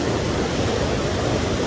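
A flooded village river rushing down from upstream, a steady, dense roar of water close by with no letup and no voices.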